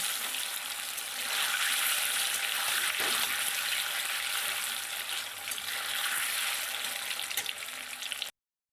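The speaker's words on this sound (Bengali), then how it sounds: "প্রথমে পনিরটাকে ভেজে নেব" Small cubes of paneer fry in hot oil with a dense, continuous hiss that holds steady, then cuts off abruptly.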